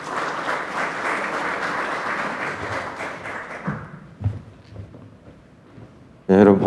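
Loud crowd applause at a political rights forum fades out after about four seconds, followed by a few thumps and quiet room noise before a voice begins speaking.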